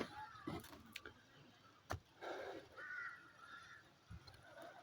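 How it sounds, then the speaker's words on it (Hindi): Faint cawing of a crow in the distance, a few scattered calls over quiet outdoor ambience with occasional soft knocks. "सिर्फ आपको कौवे की आवाज़ सुनाई दे रही परिंदों में"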